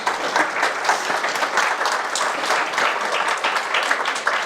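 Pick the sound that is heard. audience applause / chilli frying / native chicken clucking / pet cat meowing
audience applause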